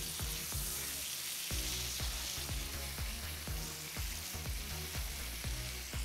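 New York strip steak fries in butter on a Pit Boss Sierra flat top griddle, with a loud continuous sizzle and frequent sharp popping spatters close by, no talking.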